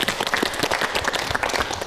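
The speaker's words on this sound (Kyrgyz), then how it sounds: "Кол чаап коелу." An audience at a Kyrgyz TV show applauds in a dense, steady burst of clapping, close and loud throughout.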